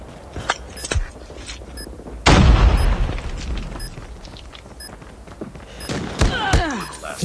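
A thrown grenade detonates in a video game with one loud, boomy blast that decays over a couple of seconds, followed by scattered thuds and sharp bursts, with faint clicks and effects throughout.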